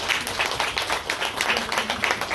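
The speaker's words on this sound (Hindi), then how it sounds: "जोर से तालियों से इनका स्वागत है।" A crowd of women at a Women's Day yoga-group event claps in a steady burst of applause, moderately loud and continuous throughout.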